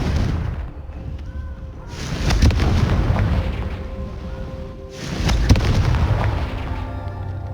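In the video game Hogwarts Legacy, the Confringo blasting spell sets off two heavy booming explosions about three seconds apart. Each blast rumbles and decays over a continuous background of loud game sound effects.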